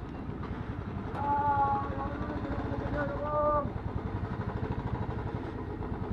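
A motorcycle engine idling nearby after arriving at a roadside stop in Shaktigarh on a group anniversary ride, with a steady low throbbing pulse and a couple of brief tonal swells midway.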